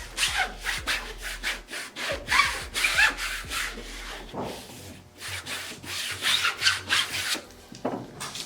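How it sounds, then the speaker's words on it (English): A squeegee scrapes and rubs along the back of a canvas in close, uneven strokes, a rough rasping sound rising and falling in repeated passes. "take my squeegee and run it along the back side of my canvas just to ensure that I got the best bond I possibly can get"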